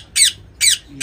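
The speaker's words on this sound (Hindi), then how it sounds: "यहाँ पे सबसे पहले मेरे पास जो पेयर है ये रिंग नेक का है" A ringneck parrot from a breeding pair, a green male and an olive female, gives three sharp, loud squawks in even succession, each a short harsh burst heard close up.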